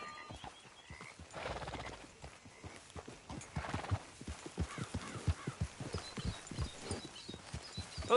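Horse hooves clip-clopping at a steady walking rhythm in the Red Dead Redemption 2 video game, close and fairly loud, with occasional snorts and whinnies from the horse.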